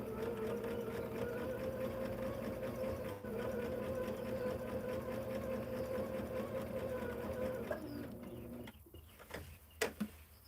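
A sewing machine stitches hexie quilt pieces in a fast, even mechanical chatter that runs steadily for about eight seconds, then stops, leaving a few small clicks and taps at close range.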